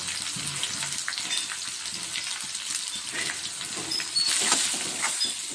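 Jackfruit pieces frying in oil with salt and turmeric give a steady close crackle and sizzle with small pops. It runs alone and continuous, with no voices.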